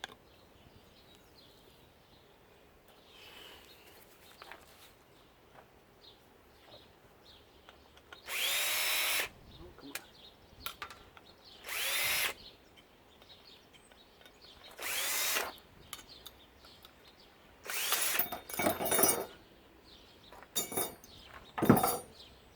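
A power drill with a screwdriver bit whirs in short, loud bursts of a few seconds each while a washing machine is taken apart, with quiet clinks and handling noises between the bursts.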